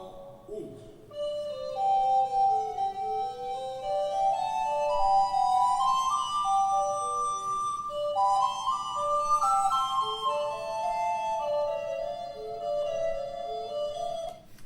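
Two flutes play a slow melody together in close harmony, their lines weaving and overlapping steadily with no talking; the second flute takes a breath after the fifth note.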